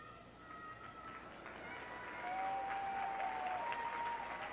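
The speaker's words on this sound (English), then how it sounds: "So encouraging applause from the crowd" A figure skating arena crowd at the 2003-04 ISU Grand Prix Final applauds steadily through Michael Weiss's free skate, a broad wash of clapping that swells midway, with faint music tones threaded through it.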